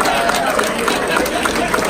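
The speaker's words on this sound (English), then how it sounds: "Give them a round of applause." A crowd at a New Jersey firefighters' cooking competition applauds a hospital's representatives. The clapping is loud, close and continuous, a dense steady roar of hands with crowd noise mixed in.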